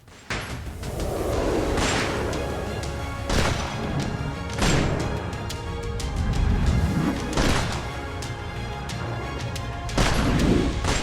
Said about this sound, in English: More Foley sounds as Neo falls to the ground.